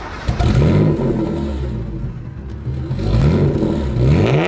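A custom BMW 635 CSi engine starts and roars loudly and close, its revs rising and falling throughout, dipping briefly in the middle before climbing again.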